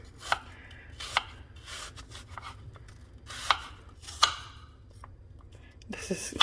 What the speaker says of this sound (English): I'm just going to cut away from the core. And, you know, let's do like this. And just do little chunks.